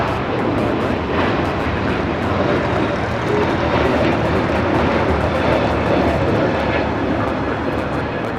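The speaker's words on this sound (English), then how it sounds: "This is JetBlue Flight 188 taking off to Boston on the A321neo" A JetBlue Airbus A321neo takes off from LAX for Boston, a loud, steady engine roar that fills the whole stretch without a break.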